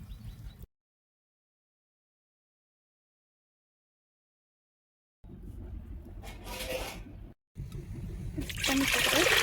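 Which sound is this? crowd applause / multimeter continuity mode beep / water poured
water poured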